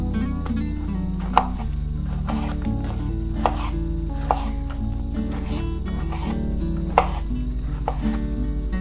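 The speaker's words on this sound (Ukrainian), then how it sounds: "Нарізаю теж величенькими шматочками, вирізаю тільки ось цей хвостик." Intermittent knife chops through meat on a cutting board, cutting large pieces, a handful of firm thuds spaced unevenly, over a steady background hum of music.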